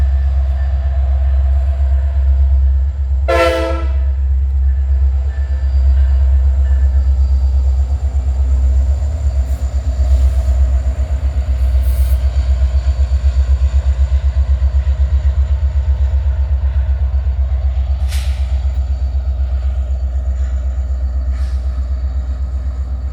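Norfolk Southern helper locomotives rumble steadily at Horseshoe Curve, a continuous low diesel drone from nearby, with a brief higher squeal or horn-like burst early on.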